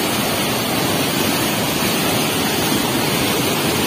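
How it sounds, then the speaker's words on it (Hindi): Fast, high-volume water tumbling down like a waterfall from a steep height, a loud, steady, broadband rush filling the whole stretch with no break. "ये तो पूरा झरना लग रहा है मुझे, देखो पूरे झरना की तरह चल रहा है ये तो।"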